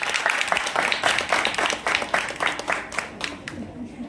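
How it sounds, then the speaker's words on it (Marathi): A crowd at a village event, with the sarpanch and a scientist present, claps in a burst of uneven applause, with voices mixed in beneath it. "पुन्हा एकदा जोरदार टाळ्या"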